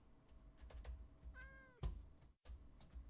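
A cat in the video game Minecraft gives one short, faint meow, with soft keyboard clicks and light knocks around it and no talking.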